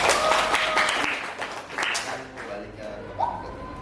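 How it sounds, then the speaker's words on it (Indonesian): Applause from students for classmates in a school classroom, a short round of clapping that fades as chatter and voices take over. "Beri tepuk tangan untuk mereka."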